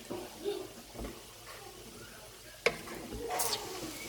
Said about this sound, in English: So I'll give this a good stir.